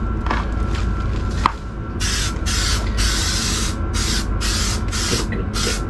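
Glue is sprayed onto EVA foam floor tiles in repeated hissing bursts of about half a second each, close and loud, after a few soft handling sounds.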